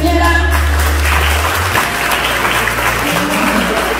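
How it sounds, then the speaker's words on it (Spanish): A crowd claps in loud, steady applause at a fifteen-year-old's quinceañera celebration, continuing evenly throughout with a low hum beneath. "Aplausos para la quinceañera."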